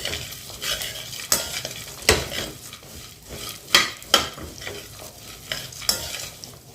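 Dry fruits, sesame and flax seeds dry-roasting in a pan over medium heat, stirred with a spoon that scrapes and taps the pan in irregular strokes, with a faint crackle underneath, close and without talk.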